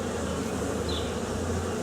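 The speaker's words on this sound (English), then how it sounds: "look at all those bees." Honeybees buzz in a continuous low drone at an open beehive, a close and steady hum with no voices.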